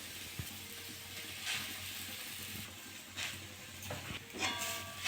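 Grated coconut and cane jaggery sizzle faintly in a hot kadai. A low, steady frying hiss is broken by a few soft scrapes and stirs.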